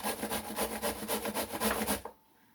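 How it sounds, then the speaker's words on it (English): Zucchini is grated by hand against a metal grater in a home kitchen, a quick run of rhythmic, scratchy rasping strokes, about ten in two seconds, then silence. "I'm going to grate the zucchini."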